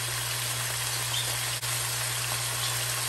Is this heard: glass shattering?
no